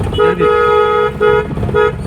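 A car horn honks three times in short bursts, the first long and the others briefly spaced, loud and close.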